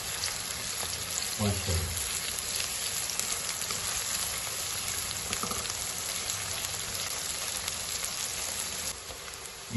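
Crushed garlic and ginger paste fries in a pan for mash dal, giving a steady, close hiss and crackle of hot oil throughout. A voice speaks briefly over the sizzling.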